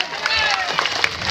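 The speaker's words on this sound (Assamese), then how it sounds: "তেখেতৰ কাৰণে একবাৰ সজোৰে হাত চাপৰি দি মই ৱেলকাম জনাব লাগে" Audience applause and clapping at a youth club felicitation ceremony in Assam, a steady crowd clatter with chatter and voices mixed through it.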